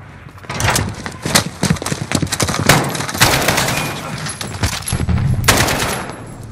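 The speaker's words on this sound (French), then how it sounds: "visez et tirez jusqu'à ce qu'il tombe" Rapid automatic gunfire in the video game Call of Duty Modern Warfare, loud bursts of shots that repeat through the clip along with some game voice.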